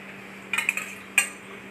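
A metal tava griddle pan set down on a stove before frying fish for a Kerala fish curry, giving a quick cluster of metallic clinks followed by a single sharper clank, close and clear with no talk.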